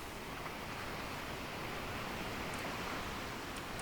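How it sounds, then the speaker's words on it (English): Big open-ocean waves in the sailing video game Sailwind, a steady wash of surf and wind noise that holds evenly throughout with no voices. "I've been seeing some kind of big waves"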